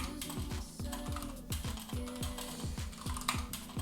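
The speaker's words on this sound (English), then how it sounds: "If I can type." Rapid, irregular clicking of fingers typing on a computer keyboard, close and steady for the whole stretch, with no talking.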